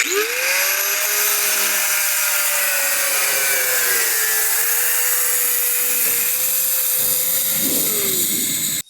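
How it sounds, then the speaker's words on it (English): An electric grinder spins up with a rising whine and then holds a loud, steady high-pitched grind against a 1941 Mercury floor pan, running alone with no talk. "we plug in that grinder"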